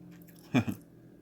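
Cup Noodles Stir Fry Korean BBQ flavor noodles being chewed, two soft close bites or squishy chews in quick succession, quiet against a faint background.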